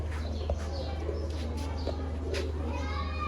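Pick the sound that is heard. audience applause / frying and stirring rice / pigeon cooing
pigeon cooing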